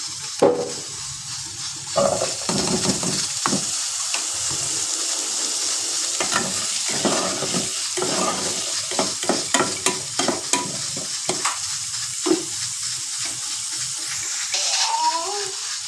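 Potatoes fried in a pan for a baby's khichdi, sizzling steadily while a spoon scrapes and stirs in repeated clattering strokes, close and fairly loud throughout.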